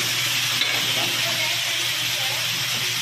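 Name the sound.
food frying in hot oil after being dropped in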